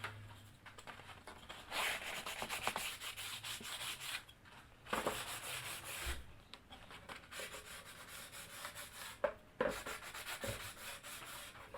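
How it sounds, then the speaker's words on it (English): Strips of wood ripped from sheets are lightly hand-sanded with 150 grit sandpaper for wainscoting, producing soft, steady rubbing strokes that are faint and close, with a few sharper scuffs. "I lightly sanded it with 150 grit sandpaper"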